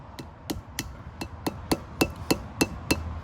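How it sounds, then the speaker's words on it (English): A hammer taps a front wheel bearing into a 1994–2004 GMC Sonoma in a steady series of about ten light, sharp metallic strikes, evenly spaced and close by, with no talking. "You hold it on one side and you just tap it"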